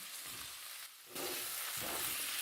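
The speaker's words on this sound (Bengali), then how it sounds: "আবার একটু ভালো করে সমস্ত ভেজিটেবলসগুলো নেড়ে চেড়ে নেব" Diced potatoes, capsicum and chopped tomato are stirred and turned in a frying pan, giving a steady close sizzle with soft scraping. It dips briefly midway, then carries on with no voices.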